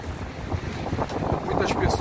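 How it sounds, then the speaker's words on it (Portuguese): High ocean waves breaking at Barra da Tijuca beach in Rio de Janeiro, heard as a close, rushing surf wash mixed with wind buffeting the microphone, steady and fairly loud for the whole stretch. "Agora, as ondas estão muito altas."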